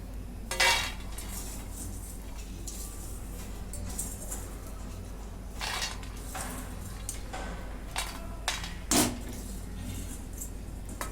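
Roasted peanuts are scooped out of a metal pan over a low gas flame, with scattered clinks and scrapes of a utensil against the pan and quiet rattling between them.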